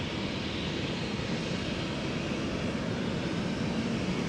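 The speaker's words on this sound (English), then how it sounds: "the Embraer has already entered the runway over here" A KLM Embraer 190 jet rolls on the runway at Amsterdam Schiphol, its engines giving a steady broad roar that stays loud and even throughout, with no voices.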